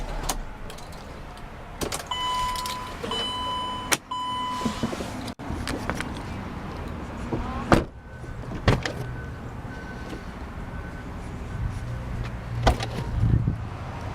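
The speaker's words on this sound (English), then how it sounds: "Doors fold out completely." Doors of a 2010 Mercedes-Benz Sprinter custom limousine folding open, with a series of mechanical clunks and motor whirs, short beeps and a sharp latch thud, heard close with no talking.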